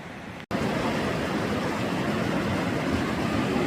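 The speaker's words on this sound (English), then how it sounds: "This river is raging" A river raging at flood stage, a dense, steady rushing roar of fast water that fills the whole stretch after a momentary dropout at the start, heard up close and without voices.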